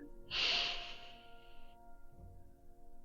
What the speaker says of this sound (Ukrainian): Горлове дихання вдих.